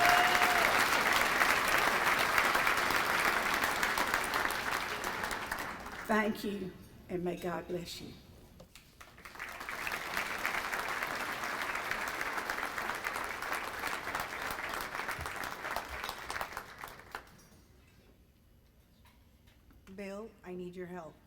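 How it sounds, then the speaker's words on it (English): Applause from guests at a formal foundation dinner rises in two long waves, broken by someone speaking briefly between them, then fades to near quiet before a voice returns at the end. "she needs a hand of applause all the time."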